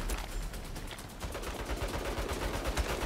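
Rapid turret gunfire in the video game Saints Row, a dense continuous burst of shots with no pauses, loud and close throughout.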